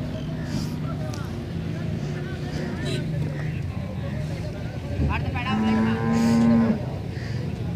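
A cow, with her calf nearby, lets out one long, low moo partway through, heard over background voices and a steady rumble.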